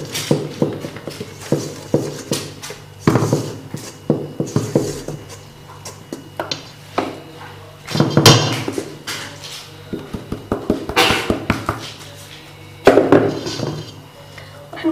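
Flour dough being mixed with a spatula, irregular scraping and thumping strokes against a bowl, close and fairly loud, with pauses between bursts.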